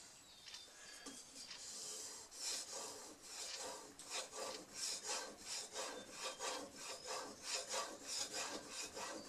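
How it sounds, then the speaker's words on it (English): A plane blade for a No. 5 plane is honed on a 4000 grit sharpening stone, making close, rhythmic back-and-forth gritty rasping strokes that repeat steadily throughout. "I will give them a little bit with a 4000 grit."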